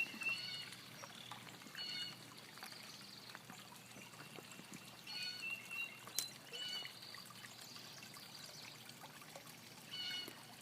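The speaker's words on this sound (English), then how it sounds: "So that is the pond and the waterfall." Water from a backyard pond waterfall, built with pond liner and rocks, trickles and splashes softly and steadily at a distance, with faint bird calls outdoors and no talking.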